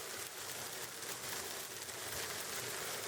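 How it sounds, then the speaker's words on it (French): Hail comes down steadily during an outdoor skateboarding session, a dense, even hiss of pelting ice on pavement with no pauses, no voices and no other sounds. "Game of skate interrompu à cause de la grêle."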